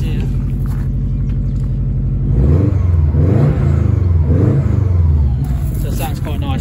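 A Subaru Impreza wagon's cold engine idles with a low rumble, then revs up in several rising and falling surges before settling back to idle.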